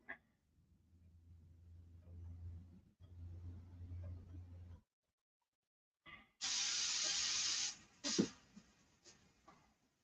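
An airbrush spraying thinner gives a loud, steady hiss lasting a couple of seconds, then a shorter sharp burst, after quieter rumbling and faint handling noise.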